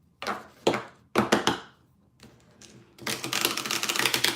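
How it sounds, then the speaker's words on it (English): A deck of cards is riffled and shuffled in several sharp, papery bursts with short pauses between, ending in a longer, denser flutter of cards, close and fairly quiet. "It'll be a real interesting kind of thing to try and shuffle these."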